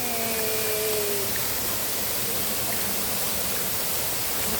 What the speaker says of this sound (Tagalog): So ito yung waterfall.